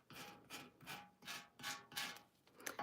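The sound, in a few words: sanding an old milk can with sandpaper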